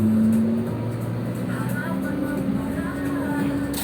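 Transjatim K1 bus departing Terminal Hamid Rusdi in Malang on its first trip, a steady low engine rumble and idle hum filling the space, with faint voices in the background.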